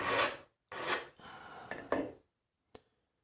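Burr being filed off the back of a carving tool made from an old Allen key: a few short rasping strokes, close and fairly loud, then a pause and a single faint tap.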